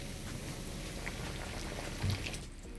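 A turkey deep frying in oil heated to 350 degrees fills the air with steady, dense bubbling and crackling, a continuous sizzle with a brief louder burst near the end.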